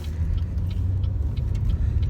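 A car stuck behind giant trucks, with a steady low traffic rumble running continuously throughout, moderately loud and close, with no talk.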